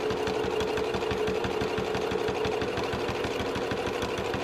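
Sewing machine top stitching a zipper onto a tote bag, running continuously with a rapid, steady needle chatter and mechanical hum, loud and close, with no talk.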